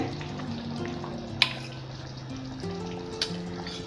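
Pav bhaji cooks after a little butter goes in, giving a soft, even sizzling hiss with a low hum beneath it and two faint clicks.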